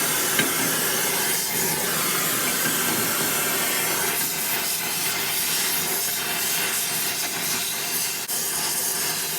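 Torch flame heating the throttle rod ends and heat riser on a Caterpillar Cat 60 tractor, a steady close roaring hiss that continues unbroken with no talk.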